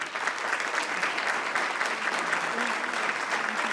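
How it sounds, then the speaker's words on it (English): A forum audience claps steadily in a dense, even round of applause that holds at a constant level throughout, with no voices standing out. "let's give Dr. Feagin a round of applause"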